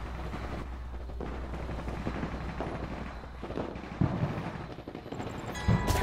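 Gunfire in the video game Call of Duty: Black Ops Cold War, with rumbling, continuous battle noise under a few sharper cracking bursts toward the end, heard from a moderate distance with no voices.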